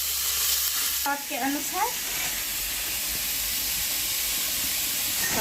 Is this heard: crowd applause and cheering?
no